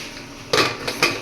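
A metal lid goes onto a pressure cooker during home khichdi cooking, with two or three sharp clanks after a quiet start, the loudest one first and the others briefer.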